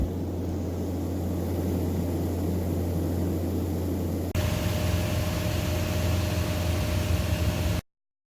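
Cabin drone of a Piper Cherokee 140 light aircraft engine on a transatlantic flight near Greenland: a loud, steady, droning roar with hiss that shifts character abruptly midway, then cuts off.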